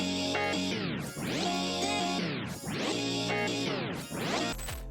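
Electronic music loop with EQ adding high-end air, playing as a loud, dense layered sound with recurring sweeping swells that repeat roughly every one and a half seconds.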